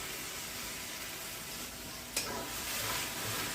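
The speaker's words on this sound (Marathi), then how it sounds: "थोडंसं त्याला तेलात परतून घ्यायचंय आणि त्यात घालणार आहे मी टोमॅटो प्युरी." Kashmiri chili powder and tomato puree fry in oil in a pan for a jackfruit biryani, producing a soft, steady sizzle with faint stirring and a brief clink of a spoon partway through.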